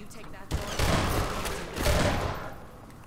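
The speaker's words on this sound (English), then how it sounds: "By the power invested in me by this shotgun, I declare you dead" Shotgun blasts in Half-Life 2 come as two loud, heavy booms about a second apart, each with a rumbling tail, mixed with game noise and a voice talking over it.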